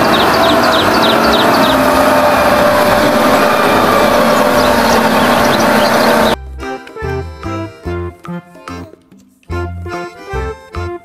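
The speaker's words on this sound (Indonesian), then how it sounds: "Mobil truk molen." A toy concrete mixer truck gives off a dense, loud engine-like whir with faint chirping for about six seconds, then stops abruptly and gives way to a bouncy music track.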